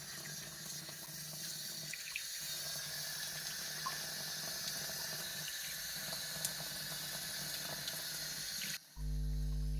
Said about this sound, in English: We have to sprinkle some water on it.